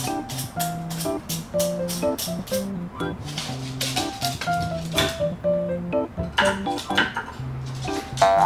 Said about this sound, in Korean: 설거지 아주 바로바로 하는 편이야